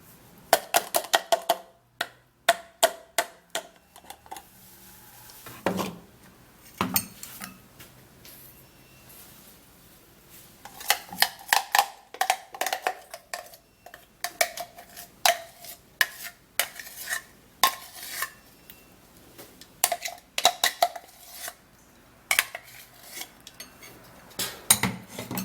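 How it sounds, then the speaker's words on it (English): A spoon mixes banana in a bowl, with repeated clinks and scrapes against the bowl in quick bursts, some pauses between them, and no talking. "putting in the banana into the bowl and then mixing it up really well, just like this."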